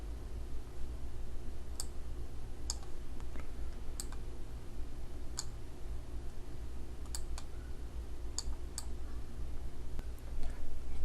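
Sharp, isolated mouse clicks in an animation program, about a dozen scattered irregularly over a low steady room hum, close and crisp, with no talking.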